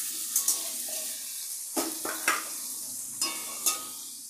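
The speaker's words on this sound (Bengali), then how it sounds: "সবজিগুলো ভেজে নিতে হবে। এখানে ছোট সাইজের একটা আলু দিয়েছি, গাজর, কুমড়ো, এগুলো একটু ভেজে নিয়ে" Small potato, carrot and pumpkin pieces fry in a pan with a steady sizzle, broken by several sharp scraping stirs of a spatula that recur through the clip, close and moderately loud with no voices.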